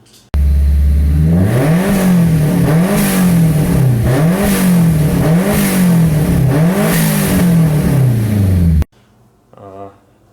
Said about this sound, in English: show you the clip of me starting it for the first time and revving up the engine